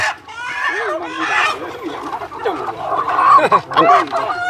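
Chickens cluck and squawk close by at a Thai–Cambodian border market at Chong An Ma, loud, busy and irregular, with a few sharper calls and faint voices in the background.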